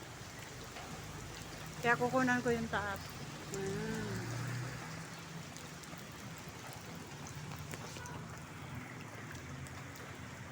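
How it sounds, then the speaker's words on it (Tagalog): Steady rain falls outdoors in a soft, constant hiss of drops, with someone speaking briefly near the start over it. "Yan, ulan."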